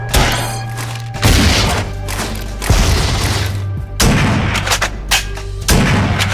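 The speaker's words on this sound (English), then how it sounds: "Various weapon sounds were designed for this game." Designed rifle gunfire for a video game: a series of five or six loud, close booming shots, each with a sharp attack and a long reverberant tail, spaced about a second apart.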